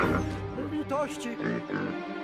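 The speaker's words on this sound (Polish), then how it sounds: "A mnie tropi dzik!" Cartoon wild boar grunting in rough, voiced bursts across a short animated scene, mixed with background cartoon music and effects.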